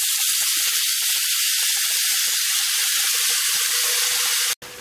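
Green tomatoes hit a hot pan and set off a loud, steady hissing sizzle up close that holds for several seconds before cutting out abruptly.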